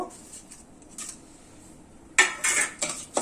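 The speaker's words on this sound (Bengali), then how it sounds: "এবার এতে আমি ঘিটা গলে গেলে এতে আমি মশলাগুলো দেব," Bay leaf, cloves and cardamom dropped into melted ghee in a pan, giving a few soft clinks and faint sizzle early on, then louder metallic pot and spoon clatter in quick bursts near the end.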